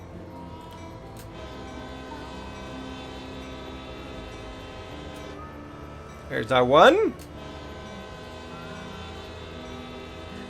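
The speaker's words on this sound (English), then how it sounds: "this would be a good point to blow the whistle." A steam train whistle sounds in a train driving video game, one short rising blast followed by a longer wavering one, loud above a steady engine rumble, with someone talking before and after.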